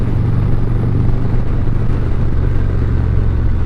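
A big stock Harley-Davidson touring motorcycle on the move, its engine a steady, loud low rumble mixed with road and wind roar, unbroken throughout.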